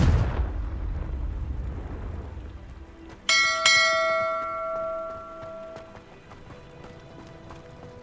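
Confringo explosive spell cast in Hogwarts Legacy: a heavy rumbling blast at the start fades out, followed by bright ringing metallic chimes that decay over several seconds.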